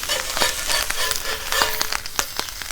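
Corned beef frying in a pan, a steady close sizzle with scattered crackles and pops, no talking.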